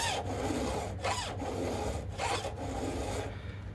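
A square file rasps steadily against metal in a stump vise, a close, dry scraping in repeated strokes with short pauses between passes, no voices.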